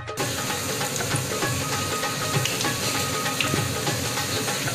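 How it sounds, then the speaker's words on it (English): Steady sizzle of oil frying pakora, with a dense hiss and faint crackles throughout, fairly loud and close, with no talking. "Sizzle, sizzle."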